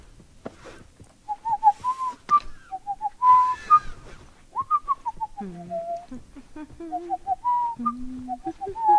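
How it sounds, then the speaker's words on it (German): A character whistles in The Last of Us, a long run of quick chirpy notes and wobbling tones that rise and fall. Some low voice-like sounds and other game noise mix in beneath it. "So ist Pfeifen, Schätzchen."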